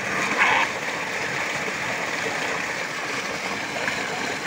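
Small sheep splash while swimming in a pool. Steady, rushing water noise runs throughout, with a brief louder splash near the start and no clear talking.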